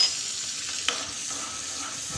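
Half a spoon of red chili powder sizzles as it goes into hot melted butter off the flame for a dal makhani tempering. The soft, steady sizzle is heard alone, with one small clink partway through.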